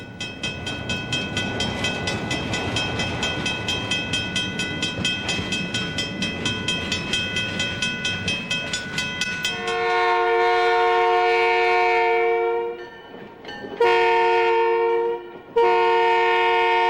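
A train rolls along a branch line on the way to Collingwood, its wheels clicking in a steady rhythm before loud sustained horn blasts sound close by, cut by short gaps.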